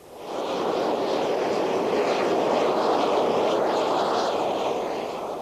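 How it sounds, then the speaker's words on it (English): A fighter jet taxis on the ground at a military airfield, giving a steady, loud engine roar and rushing whine that holds constant for several seconds with no talk. "Trevor Lewis is taxiing towards the moment he's been dreading"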